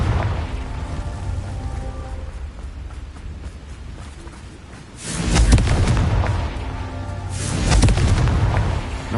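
Two heavy booming blasts of the Confringo explosion spell in Hogwarts Legacy, each a loud rumbling burst that swells and lingers, separated by a few seconds of lower background rumble.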